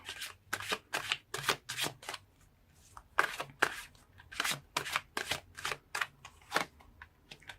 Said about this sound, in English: So let's pull more cards and see.